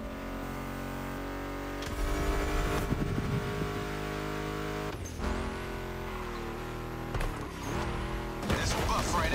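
Muscle car engines roar and rev in The Crew Motorfest, a steady loud drone with gear shifts and surges, mixed with music riffs and occasional crash noises, while a voice talks over it.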